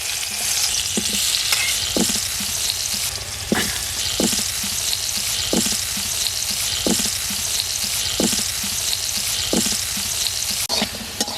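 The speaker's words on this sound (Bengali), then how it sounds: "এবার আলুটা ভেজে নিচ্ছি।" Potatoes frying in oil in a pan, a loud steady hiss of sizzling with regular knocks of a spatula stirring roughly once a second, close and with no voices.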